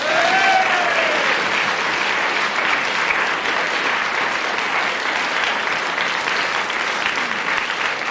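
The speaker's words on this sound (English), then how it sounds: "Applause for somebody," Studio audience applause on a radio announcers' quiz show, a dense, steady wash of clapping that stays loud and unbroken for the whole stretch, with a faint whistle-like tone near the start.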